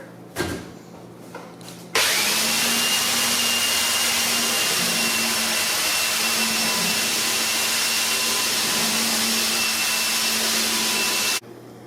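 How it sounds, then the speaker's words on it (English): A big power sander fitted with 32 grit sandpaper grinds across a Formica countertop after a couple of short knocks, running as a loud, steady whirring drone for about ten seconds before cutting off abruptly. "I originally thought I was going to sand the countertops with this random orbit sander, but it looks like the big boy is going to have to come out"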